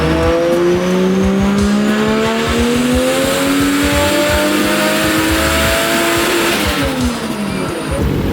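A turbocharged Toyota Supra making over 500 wheel horsepower revs hard through several rising pulls on a dyno, loud and close, with tire squeal and a sharp turbo whine climbing in pitch.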